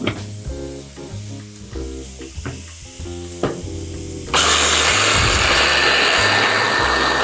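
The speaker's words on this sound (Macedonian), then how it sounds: "со рачен блендер" A hand blender whirs in short bursts, then runs steadily and loudly from midway, buzzing close up as it mixes an olive oil sauce.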